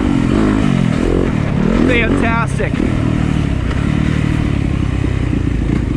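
Yamaha YZ250FX dirt bike engine running loud and close throughout, with rising revs and some clatter as the bike is ridden, while someone talks over it.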